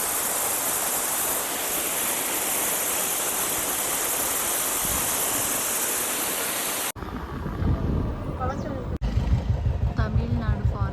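Fairy Falls waterfall in cold Kodaikanal pours with a loud, steady roar for about seven seconds, then drops away to quieter surroundings as a person talks.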